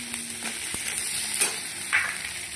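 Lightly fried potatoes and cauliflower are stirred in a pan as tomato sauce goes in, a soft continuous sizzle broken by a few scraping stir strokes and small clinks, fairly quiet and close, with no talking.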